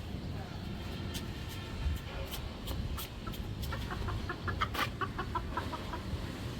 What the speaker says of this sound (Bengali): এখানে কি আবার মুরগি আসছে